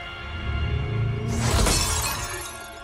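Glass shatters in a Mortal Kombat 11 fatality, a sudden bright loud crash that bursts out mid-clip over a steady low game soundtrack and lingers in a spray of tinkling fragments.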